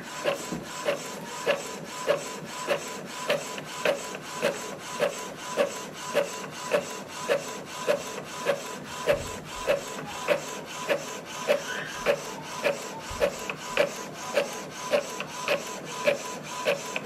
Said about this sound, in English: Select your printer and click print.